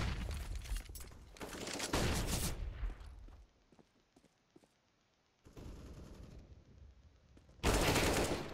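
Rapid gunfire from the video game CS:GO during an ESEA MDL Australia match comes in dense bursts at the start, a quieter gap with scattered faint shots, then more loud bursts near the end.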